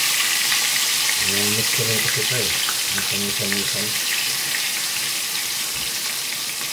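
A large fish deep frying in hot oil, giving a steady loud sizzle and crackle throughout. A person talks over it and there is a brief hum in the middle.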